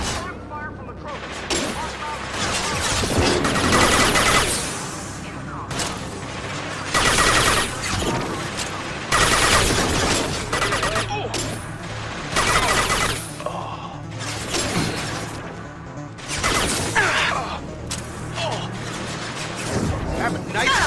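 Gunfire during a Mass Effect 2 firefight, with rapid bursts and crashing volleys in a steady stop-start rhythm, loud and up close, mixed with frequent voices talking over the shooting.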